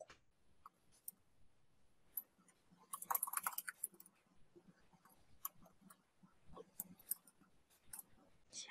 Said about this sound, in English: I'm going to type in the one that I am using right now.